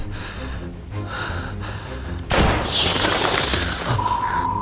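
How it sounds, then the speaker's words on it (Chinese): A burst of gunfire erupts in an anime drama scene near railway tracks, a sudden loud crack followed by a sustained rattling barrage after quieter ambient tones. "枪声"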